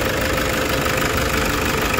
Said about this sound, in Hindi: कोई इंजन में मिसिंग नहीं, कोई हंटिंग नहीं, एक साथ टिक के इंजन चल रहा है